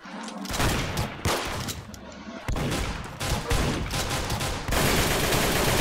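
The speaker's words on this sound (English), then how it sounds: "He's trying to shoot me." Dense, loud gunfire rattles almost continuously in the Roblox game Arsenal, with overlapping rapid shots and brief gaps between volleys, and no voices.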